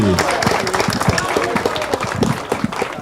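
An audience claps for a roll of football clubs at a Brazilian honours ceremony, short mixed applause with scattered claps and some crowd noise over about three seconds.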